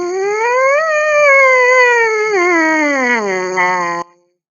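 A single sustained trumpet tone glides smoothly in pitch, rising slightly and then sinking lower before stopping abruptly, played alone and fairly loud with a bright, harmonic-rich timbre.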